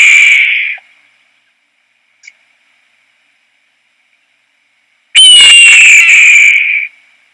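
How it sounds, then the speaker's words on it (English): A loud, harsh descending red-tailed hawk scream sounds twice, once briefly at the start and again longer after a silent pause. "So that is a red-tailed hawk."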